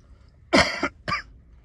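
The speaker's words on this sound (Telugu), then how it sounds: "చూసారా ఎక్కువ తిరిగేసి దగ్గు వస్తుంది" A man coughs twice, close up and loud: a harsh, rough burst followed by a shorter one, with quiet between.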